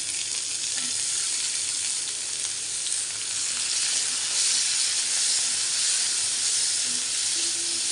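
Raw tomato hits hot oil with fried urad dal in a pan, giving a loud, continuous sizzle and hiss close up, with faint stirring scrapes and no talking.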